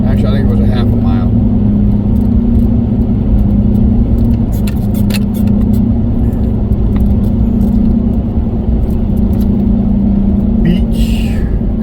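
A car rolling slowly down a Gulf beach access road, its engine rumble and tire noise steady and close throughout, with faint scattered clicks and rattles above the continuous drone.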